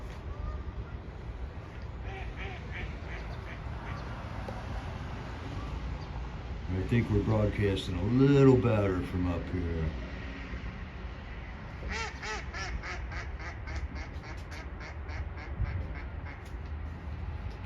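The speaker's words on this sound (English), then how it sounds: "Can you guys hear the ducks?" Ducks quack in repeated bursts, nearby and fairly loud, while someone talks over them.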